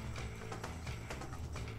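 Horse in the video game Red Dead Redemption, with steady clip-clop of hooves and a whinny rising over continuous low rumble, busy and fairly loud throughout.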